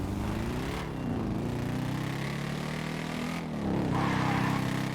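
Car engine in GTA V gameplay, a steady droning hum with revving pitch swells near the start and again around the final seconds, loud and continuous throughout.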